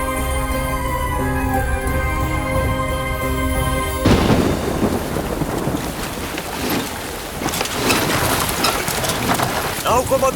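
Heavy rain and thunder from a river storm, as a boat is about to cross; music plays for the first four seconds, then a dense, loud roar of downpour with rumbling thunder runs steadily to the end.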